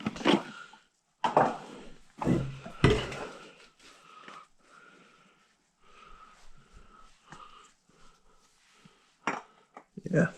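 Metal parts clink and clatter in short bursts during work on a 2013 Kia Soul engine as an STP oil filter goes on, close and intermittent with quiet gaps and faint breathing between.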